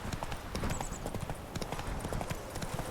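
Roach, the horse in The Witcher 3 video game, gallops with a steady, rapid clip-clop of hooves that carries close and loud throughout, over a low rumbling game backdrop.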